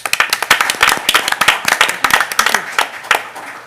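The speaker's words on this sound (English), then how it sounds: "So I would like to have you all join me in giving them a round of applause for all their hard work." Audience applause fills a West Clermont Schools Board of Education meeting room, with dense, irregular clapping from many hands that holds steady and close throughout.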